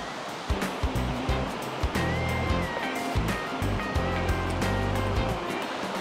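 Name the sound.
river flowing in Vilcabamba Valley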